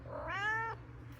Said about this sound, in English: Best cat ever.